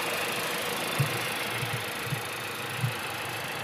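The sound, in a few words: 4-cylinder engine of a Nissan Rogue SL idling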